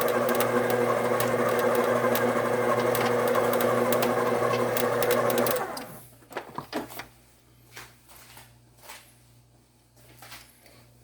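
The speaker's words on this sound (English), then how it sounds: "I'm gonna let that mix up about a minute, then we'll add our coconut." An electric mixer whirs steadily through cream cheese icing for an Italian cream cheese cake, a close continuous motor hum that cuts off about halfway, followed by quieter scattered clinks and handling noises.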